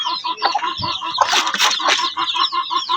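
A backyard hen clucks repeatedly up close, with other poultry calling and murmuring around her in a busy, continuous chorus.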